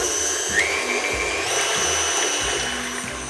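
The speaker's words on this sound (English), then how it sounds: "We're going to take our egg whites. We're going to start whisking until it becomes light and foamy before we add our sugar." An electric mixer whisks egg whites for meringue with a steady, loud motor whine that runs throughout, with small shifts in pitch along the way.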